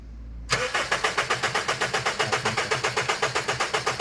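A Honda Civic FD with a shaking engine, during an ignition coil and spark test, starts from quiet and settles into a loud, rhythmic pulsing run with evenly spaced beats.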